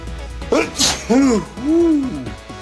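A single sneeze sounds at close range, a sharp burst, followed by drawn-out vocal sounds that have a hooting, wavering quality.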